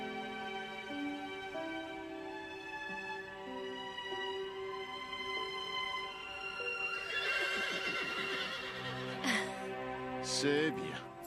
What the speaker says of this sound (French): Il y a un cheval qui vient d'arriver au refuge.